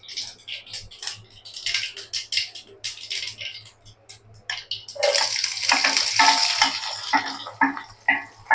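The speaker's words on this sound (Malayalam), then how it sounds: "ഓക്കെ, അപ്പൊ ഇനി ഇതില് കടുക് പൊട്ടിച്ചിടണം." Mustard seeds crackle and splutter in a hot pan for Kerala sambar, a dense irregular popping and sizzling that swells loud midway and keeps spattering.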